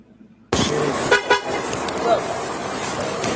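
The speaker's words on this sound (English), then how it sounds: "You got your 2 little honks" Two short car horn toots sound close together amid loud roadway noise, with voices talking over them.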